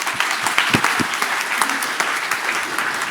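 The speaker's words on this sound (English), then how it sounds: "Jessica and Luca, amazing to see you, the roaring applause here." Loud, sustained applause from a large audience at a Nobel Prize laureates' event linked with the International Space Station, dense clapping filling the whole stretch with no pause.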